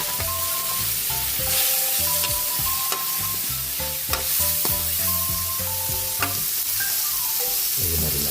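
Crispy pata pork dropped into a pan of sautéed mung bean stew, giving a loud continuous sizzle with stirring scrapes while background music plays.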